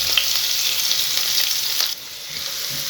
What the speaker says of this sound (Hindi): यहाँ पे ऑयल हमारा गर्म है, मैं इसमें ऐड कर देती हूँ ये बारीक कटी हुई प्याज।